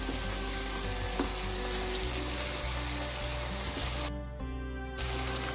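Onions frying in a pot for a mutton stew give off a steady, close sizzle that runs unbroken and fairly loud. A brief quieter dip comes near the end before it returns.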